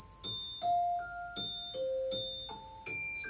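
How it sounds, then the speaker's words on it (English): A celesta sample run through an arpeggiator steps through bright bell-like notes in a bouncing pattern, each struck tone ringing and overlapping the next, soft and alone. "I added this wee Arpeggiator, which just kind of makes it bounce around in arpeggios"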